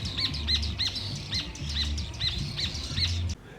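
Chaco earthcreeper, an Argentine ovenbird, calling in a run of about a dozen evenly spaced, rising-falling chirps, fairly close and clear over a low background rumble before stopping abruptly.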